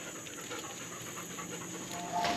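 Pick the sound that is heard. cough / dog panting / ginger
dog panting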